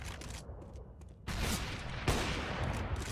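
Gunfire in a professional Counter-Strike match on the Mirage map, with a sudden loud burst of rapid shots, a second sharp crack soon after and sustained noisy game ambience, no talking.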